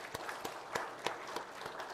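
Members of a Korean church congregation clap briefly during a Sunday service: sparse, uneven claps from a few people, soft and somewhat distant, with a faint room background.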